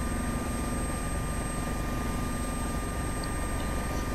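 A simulated AS365 Dauphin helicopter in the Prepar3D flight simulator produces a constant, even rotor and turbine drone with steady tonal whine, heard alone with no talking.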